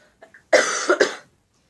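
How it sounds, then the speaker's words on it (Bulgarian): A single harsh cough, loud and close, breaks a near-silence after a couple of faint breathy sounds. "Извинявайте, ако кашлям."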